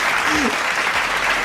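Applause from a crowd, a dense, steady wash of clapping that fills the short moment at an even level with no break.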